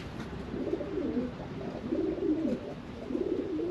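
Racing pigeons coo in low, rolling, repeated phrases, close and steady, over a constant loft background hum with no talking.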